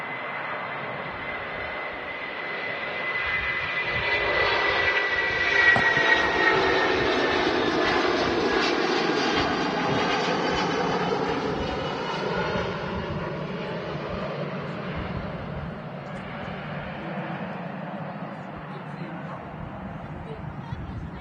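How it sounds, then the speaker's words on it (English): A Turkish Airlines Airbus A330 jet takes off from Manchester Airport and climbs steeply, its engines swelling into a broad roar that peaks and slowly fades into the distance, with people talking over it. "Pretty steep climb actually from the Turkish Airlines A330 heading back to Istanbul."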